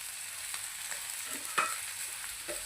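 Okra sabzi cooks gently in a pan on low gas with a soft, faint sizzle, broken by a few quiet stirring scrapes and clicks, no voices.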